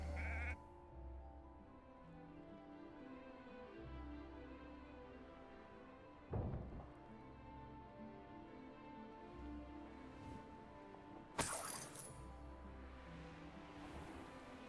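A sheep bleats repeatedly in wavering calls in the video game Hogwarts Legacy over a steady low hum, with a couple of sharp clicks or thumps between bleats.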